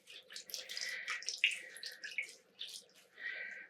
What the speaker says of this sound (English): I'll just grab the zip ties and I'll squeeze out excess water.